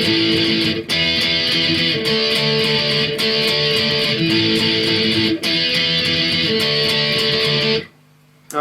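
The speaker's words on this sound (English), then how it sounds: "just 3 different power chord shapes using index finger and our ring finger" Heavily distorted electric guitar power chords in a pop-punk chorus, index and ring finger shapes, strummed in a steady driving wall of sound with brief breaks, close and loud, ending in a short silence.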